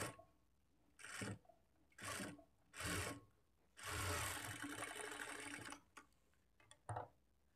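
Sewing machine stitching blouse lining cloth in short bursts, several brief runs followed by one longer continuous stretch and a final short burst, fairly close with no talking.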